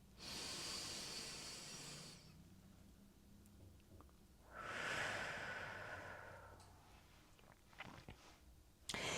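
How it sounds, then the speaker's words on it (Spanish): Slow, deep breaths drawn in and let out during a pause in a Yin Yoga practice, two long airy swells of inhale and exhale close to the microphone, with quiet between them. "Otra respiración profunda."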